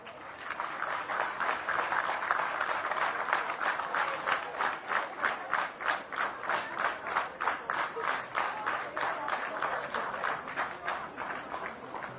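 A large crowd at an outdoor political rally for a mayoral candidate in Gyumri claps steadily, settling into loud, rhythmic synchronized clapping that pulses through the whole stretch.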